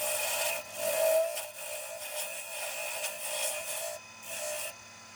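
Wood is turned and shaped into a wooden plug for a salt shaker. Close, continuous rasping and rubbing with a tonal whine rises and falls in uneven strokes, with a brief pause near the end.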